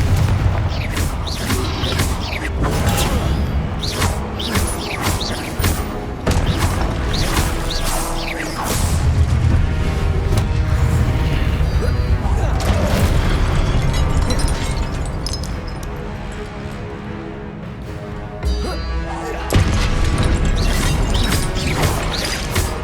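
Hogwarts Legacy spell combat keeps up a dense run of booming blasts, crashes and whooshes from explosive spells, loud and continuous for over twenty seconds with no clear speech.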